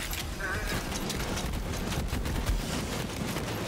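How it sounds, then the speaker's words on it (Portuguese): Dense, continuous automatic gunfire from the co-op shooter game Borderlands 3, a steady rattling barrage that runs the full length with no pauses, loud and close. "Eu tava atirando nele, ó. Ó, um tiro."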